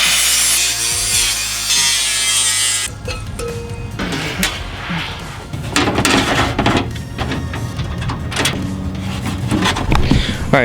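A power tool cuts through a sheet for a widebody Porsche bumper template, with a steady loud whine at first, then rough, uneven buzzing and rasping bursts as the blade works through the material.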